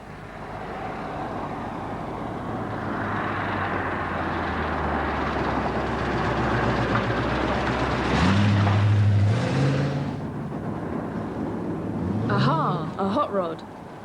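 A customised 1934 Model Y Ford hot rod with an American V8 rumbles low and steady, swelling into a louder rising rev midway, with a voice talking over it.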